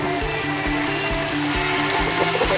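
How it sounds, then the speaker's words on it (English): A waterfall on a farm beside a pond pours with a steady, close rushing and splashing of water that fills the whole stretch. "And also there's a waterfall"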